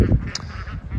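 Gold Star ducks free ranging on grass give a burst of nasal honking quacks, close and fairly loud, with several overlapping calls in quick succession and no talking.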